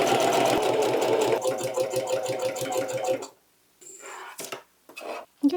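A domestic sewing machine running a zigzag stitch, a loud steady rapid mechanical chatter close by for about three seconds, then stopping, followed by quieter handling noises and brief thumps.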